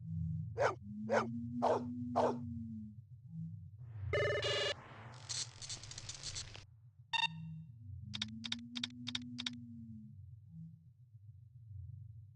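A dog in the video game Blade Runner: Enhanced Edition gives a brief bark or whine in the middle, set among repeated electronic beeps and ringing tones over a low ambient hum.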